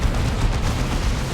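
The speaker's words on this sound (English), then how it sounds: "Multiple las cannon shots did connect." Las cannon fire in Dawn of War 2 Elite Mod battle: a dense, loud burst of booming shots and blasts packed tightly together, continuous for the short moment with no talk.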